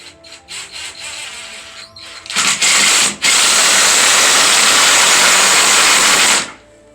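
A power drill drives screws into a bathroom subfloor, with a few short pulses first and then a long, loud, close whirring run that stops abruptly.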